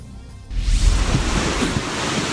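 Floodwater rushing through a village in Maasim, Sarangani, after heavy rain, heard as a loud, steady broadband roar of surging water that swells up abruptly and keeps churning without pause.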